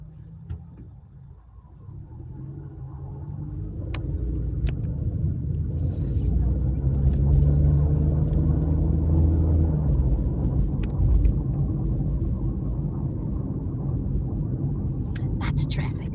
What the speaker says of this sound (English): Lots of traffic.